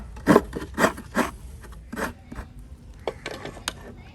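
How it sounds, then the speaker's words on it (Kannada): A whole small coconut being grated by hand for a Mangalore-style sukka: a series of raspy scraping strokes, a few strong ones at first, then lighter, quicker scrapes, close and fairly quiet. "ನಾನು ಒಂದು ಚಿಕ್ಕ ಕಾಯಿ ಇಡೀ ತುರಿತಾ ಇದ್ದೀನಿ."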